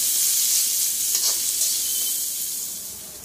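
Chicken frying in a pan for pasta gives a bright, close sizzle that starts strong and slowly fades, with a brief stirring scrape midway.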